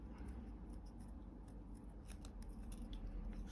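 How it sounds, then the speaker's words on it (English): Scissors snip close-up and quietly through small pieces of material for a miniature apartment build, cutting them into circles with soft, repeated crisp clicks over a low steady background hum. "Firstly, I'm just going to cut them into circles."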